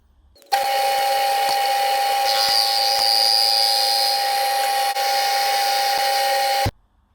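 A mini worktop lathe is switched on to turn 25mm brass bar held by a live tailstock centre, giving a steady humming motor drone that starts abruptly, holds for about six seconds, then cuts off.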